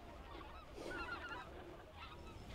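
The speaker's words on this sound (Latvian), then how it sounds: "Lido zosis." Distant geese pass overhead above a reedy river in early spring, a faint cluster of honks swelling in the middle and returning briefly toward the end against soft outdoor background.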